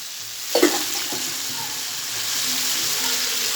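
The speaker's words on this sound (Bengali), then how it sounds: "এই যে পেঁয়াজ আর কাঁচামরিচ দিয়ে দেবো।" Onion and green chillies hit hot frying oil with a clatter and burst of sizzle, then settle into a steady crackling fry, close and loud, with occasional stirring.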